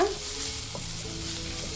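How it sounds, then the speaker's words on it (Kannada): Half an onion, finely chopped, sizzles and fries in a pan over a medium flame for a North Karnataka dish, with steady close crackling and a brief stirring scrape near the start. "ಒಂದು ಅರ್ಧ ಈರುಳ್ಳಿ ಸಣ್ಣದಾಗಿ ಕಟ್ ಮಾಡಿ ಹಾಕೋತಾ ಇರೋದು ಇದನ್ನು ಕೂಡ ಒಂದು ಸ್ವಲ್ಪ ಹಸಿ ವಾಸನೆ ಹೋಗೋ ತನಕ ಮೀಡಿಯಮ್ ಫ್ಲೇಮಲ್ಲಿ ಹುರ್ಕೊಳ್ಳೋಣ"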